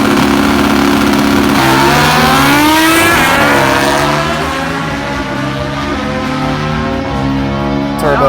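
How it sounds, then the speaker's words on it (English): A turbocharged GS drag bike launches at the drag strip, its engine screaming loudly up through rising gear pulls, with crowd and track noise underneath. "Turbo Joe with a nice crisp pull shot on his GS"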